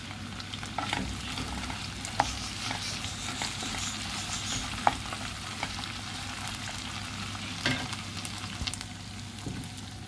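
Spoon stirring drumstick and jackfruit seed curry in a pan after salt goes in, a soft continuous sizzle with scattered scraping clicks of the utensil, close and fairly quiet.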